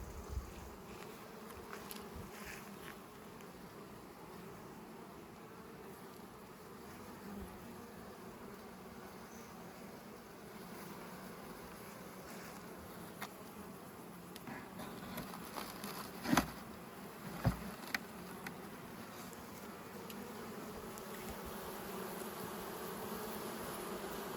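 Steady, dense buzzing of many honeybees close by at a hive, with honey-filled frames, continuous throughout, with a few sharp knocks and clicks near the middle.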